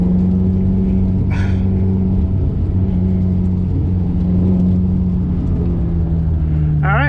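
A 2007 Ferrari F430 engine drones steadily from inside the moving car, a loud continuous mid-pitched rumble with a brief rising rev near the start and another climbing rev at the very end.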